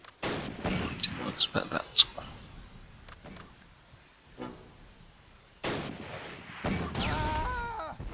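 Anti-tank gun in the Close Combat war strategy game firing a few sharp reports amid scattered battle noise, with someone briefly talking over the action.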